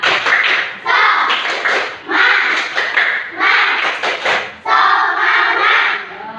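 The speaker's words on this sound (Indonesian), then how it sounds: "Tepuk semangat." Children in an elementary school classroom clap out the 'tepuk semangat' chant together, bursts of rhythmic hand claps mixed with young voices in several loud patterned phrases with short pauses between.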